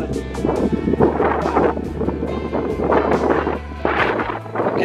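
Strong gusting wind buffets the microphone outdoors at a roof build site, a continuous rough roar that swells and dips without pause.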